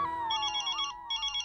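A telephone rings with a melodic electronic ringtone signalling a call from the office, clear and steady in a quiet room with no one speaking.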